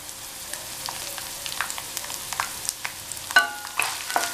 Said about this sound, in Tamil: சேர்த்துட்டு இதை கொஞ்ச நேரம் வதக்கினா போதும்